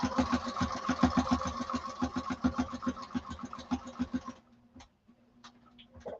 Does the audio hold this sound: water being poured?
no